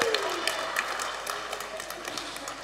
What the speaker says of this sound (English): Give a round of applause to Dr.